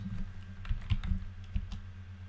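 Keys tapped on a computer keyboard while a local web server address is entered on a Mac, a short run of light, irregular clicks close by against a faint background hum.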